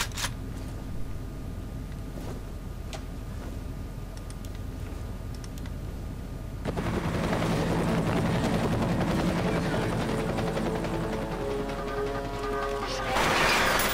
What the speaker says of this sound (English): I've got a visual on the chopper.